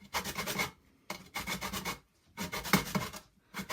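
Lemon zest is rubbed off a single lemon against the rough side of a grater for a lemon drizzle cake, giving close, rhythmic rasping strokes in four distinct bursts with short pauses between them.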